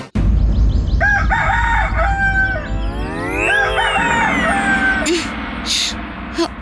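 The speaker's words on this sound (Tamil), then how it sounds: "ஐயோ, இந்த சேவல் தூக்கத்தை கெடுக்குது." A rooster crows loudly and close by, with a long drawn-out call followed by a second overlapping crow, over a low background rumble and no talk.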